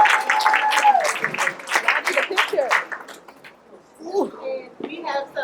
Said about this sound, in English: Y'all clap it up for the babies